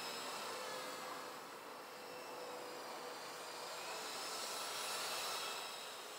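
An E-flite Blade SR120 RC helicopter flies outdoors on a cloudy day in light wind, giving a steady, fairly faint whining buzz of rotor and motor that holds without a break and swells gently, with no voices.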